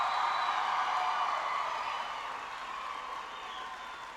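Crowd at a 1998 Bill Clinton overflow rally in Champaign-Urbana cheering and clapping, a dense continuous roar of applause and shouts that stays loud and slowly eases off.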